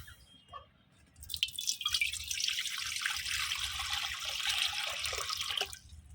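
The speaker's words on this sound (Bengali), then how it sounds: "তো এখন আমি পরিমাণ মতো এই যে পানিটা দিয়ে দিব কড়াইতে" Water poured from a container into a wok to make dough for pitha, a close steady splashing pour that starts after a second and runs for several seconds before stopping.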